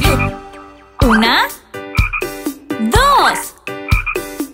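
Spotted frogs croak repeatedly in a bouncy Spanish-language children's song, the loud cartoonish croaks and sung phrases alternating in a lively rhythm over music.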